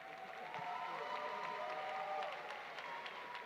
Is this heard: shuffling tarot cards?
no